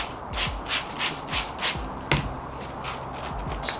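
Rust being sanded off the wheels of a Honda Aero 50 scooter, a close, steady scraping rub that pulses in repeated strokes about every half second, with one sharper knock partway through.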